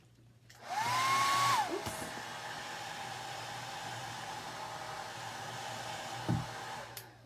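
A hair dryer blows onto a heat transfer, starting with a loud whirring rise, holding as a steady airy hum for several seconds and then cutting off; a brief word is spoken.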